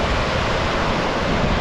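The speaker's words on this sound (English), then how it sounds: "there's some decent waves for Lake Erie today" Waves rolling in on a Lake Erie beach, a steady, dense wash of surf that continues without a break and fills the scene with no talking.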